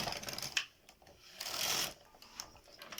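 Sewing machine in need of oil running in short bursts, a fast mechanical whirring and clattering that starts and stops, close up and fairly quiet.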